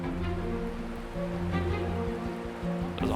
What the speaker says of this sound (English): Heavy rain on Scotland's east coast was at its most intense at St Andrews.